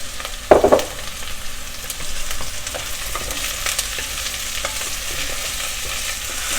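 Chicken and carrots sizzling in a pan, a sharp clatter as they go in followed by a steady, moderate frying hiss with small crackles.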